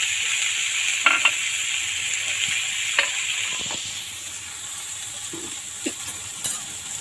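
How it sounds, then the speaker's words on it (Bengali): Onion fries in oil with a steady, soft sizzle, broken by a few spoon stirs and metallic clinks against the pan, and no one speaks. "পেঁয়াজটা একটু ভেজে নেব। এই তেলটাতেই ভেজে নিচ্ছি।"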